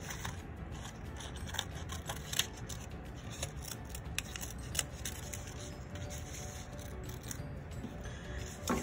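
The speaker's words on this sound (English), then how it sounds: "Be very careful and cut out the center." Scissors cut paper for a paper sculpture in quick, repeated snips and crisp crunches, steady and close for almost nine seconds, with no talking.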